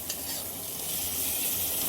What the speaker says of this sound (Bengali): মশলাগুলো তেলের মধ্যে খুব ভালোভাবে কষিয়ে নেব।